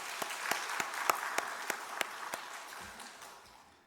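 A church congregation gives another round of applause after the choir's singing, a dense wash of clapping with sharper individual claps standing out at a steady pace before it tapers off.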